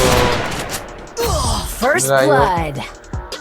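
Rapid bursts of video game gunfire crackle in a fast fusillade, mixed with excited vocal groans and exclamations from a player talking over the shots.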